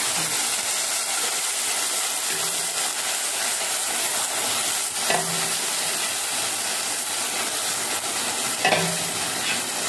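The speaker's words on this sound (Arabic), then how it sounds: "هسقيه بالشوربة بتاعة الفراخ اهو" Rice in a pot sizzling as chicken broth from free-range chicken is poured in and stirred, a steady loud hiss and bubbling with occasional scraping stir strokes.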